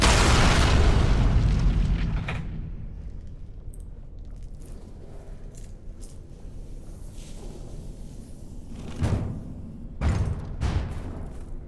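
In the Dragon Age: Origins video game, the anvil is destroyed with a heavy rumbling boom that fades into a low roar, followed by a few dull crashing thuds near the end.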